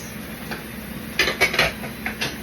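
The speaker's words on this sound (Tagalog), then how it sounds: "Mix natin ang ating carrots" Carrots mixed in a pan with a utensil, producing a few close, sharp clinks and scrapes clustered near the middle, with softer taps around them and no speech.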